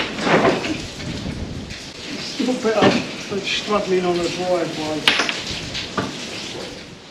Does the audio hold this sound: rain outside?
yes